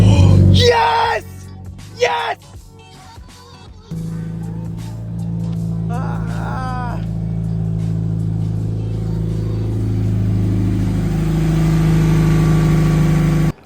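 A Scion FR-S engine starts and settles into a steady low idle after its first start, close and loud, with excited voices shouting just before it catches.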